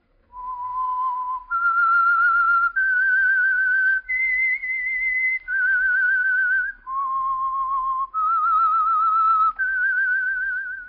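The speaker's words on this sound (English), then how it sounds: "That whistle is your signal for the Signal Oil Program, The Whistler." A melodic whistled theme for The Whistler, an old-time radio mystery program sponsored by Signal Oil, heard alone and clear as a series of sustained notes that step up and down in pitch for about eleven seconds.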